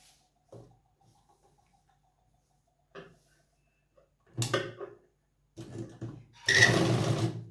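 A sewing machine stitches a salwar suit in a boutique: after a few faint clicks, it runs in three close, loud bursts, each a little longer than the last, with no voices.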